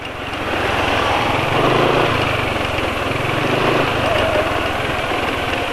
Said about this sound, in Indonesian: Terus perhatikan juga respon mesin ketika penulis lepas gas